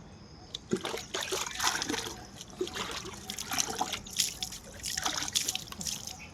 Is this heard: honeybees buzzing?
no